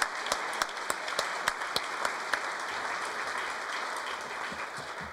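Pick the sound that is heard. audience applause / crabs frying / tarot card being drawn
audience applause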